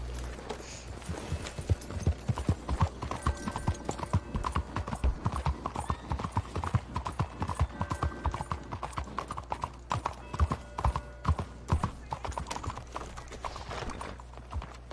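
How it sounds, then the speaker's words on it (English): A horse gallops in the Western video game Red Dead Online, its hooves clip-clopping in a fast, steady rhythm for the whole stretch. A whinny and faint game ambience sit beneath the footfalls, and no one speaks. "I'm gonna go ahead and call my horse."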